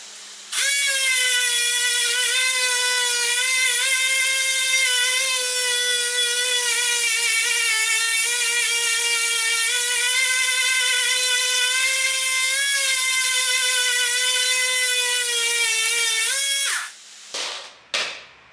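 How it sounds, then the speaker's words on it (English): A high, steady motorized whine comes from a rotary tool sanding the mismatched case halves of a leaking Yamaha TZ250 motorcycle engine. It runs loud and unbroken for about seventeen seconds, then cuts off with a couple of short bursts. "I just sanded it down a little bit"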